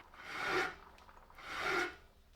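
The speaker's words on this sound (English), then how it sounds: "It's just kind of like nice to run files and work by hand." Two slow, raspy file strokes scrape across metal, each rising and fading over about a second, close and quiet with no talking.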